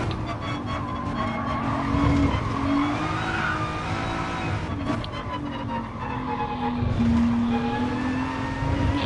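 A race car in Gran Turismo Sport howls through corners with tires squealing and skidding, the engine revving up and down in sustained, loud bursts with long screeching slides.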